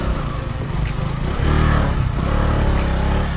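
A motorcycle rides along a rough off-road forest trail, its engine loud and close, rising as the throttle opens partway through and then holding a strong, rumbling drone.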